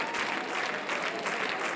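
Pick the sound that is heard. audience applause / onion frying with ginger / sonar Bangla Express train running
audience applause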